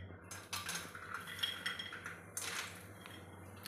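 Peanuts are tipped into hot oil in a kadhai, giving a rattling clatter of nuts against the metal pan with bursts of sizzle, close and fairly quiet, with no talking.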